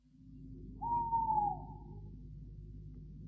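A single drawn-out owl hoot rises and fades over a low, steady background hum, fairly faint and distant.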